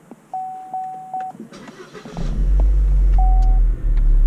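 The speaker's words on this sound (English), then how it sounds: "Car starts." A first-generation J300 Holden Cruze is started by its push button: a few short chimes sound, then the engine cranks and catches into a loud, steady, close idle rumble with another chime over it.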